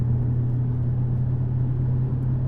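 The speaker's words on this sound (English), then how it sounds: "We got ourselves a Mazda Miata cutting across lanes" Steady road rumble of highway traffic with a Mazda Miata driving among commuters, a constant low whir of tires and engines at moderate level with no voices.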